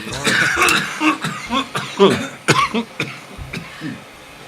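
Several harsh coughs and throat-clearing sounds come in quick, uneven bursts, close by, with some voices murmuring underneath.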